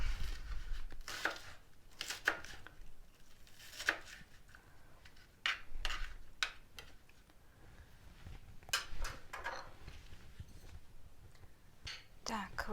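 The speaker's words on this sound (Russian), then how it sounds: "Лук разрежем" A knife chops an onion into small pieces on a cutting board for a dumpling filling, giving scattered sharp, crisp cuts at an uneven pace, close and moderately quiet over a low background rumble.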